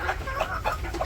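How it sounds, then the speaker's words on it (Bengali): Village chickens cluck softly while pecking at feed, a short, continuous run of close, overlapping clucks with no talking. "এই যে মুরগি"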